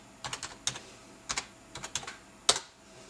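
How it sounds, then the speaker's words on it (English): Keystrokes on a computer keyboard come in short, quiet clusters of clicks with brief pauses between groups, ending on one sharper tap. The clicks are close and there is no talking. "I'm just going to type in Quick Record."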